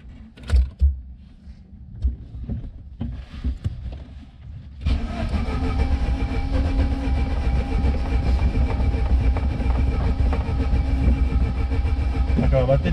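A Chevrolet Celta's starter motor cranks on a weak, nearly dead battery, kicking in after a few knocks and bangs and then grinding on continuously and loudly for several seconds at close range.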